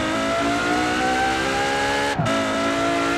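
A KTM X-Bow GT4 sports car engine in Forza Horizon 4 holds a steady high-pitched drone at sustained revs, with a brief dip near the end, loud and continuous.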